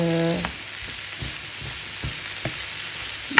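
Steady sizzling and crackling of chanterelle mushrooms frying in butter, with a soft tone at the start and occasional light taps of a utensil.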